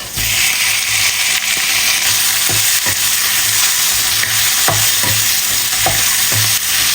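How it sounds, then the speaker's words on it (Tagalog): Pork being stir-fried in a pan with garlic and ginger: a loud, steady sizzle up close, broken by repeated scrapes and taps of a spatula stirring the meat, with no talking. "garlic and ginger. Add natin ang ating pork."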